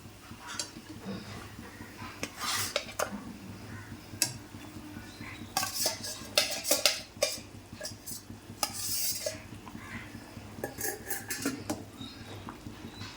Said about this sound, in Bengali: এবার আমি দিয়ে দেবো এর মধ্যে মাছ।